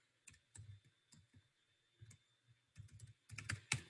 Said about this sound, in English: I'm going to type my password right here.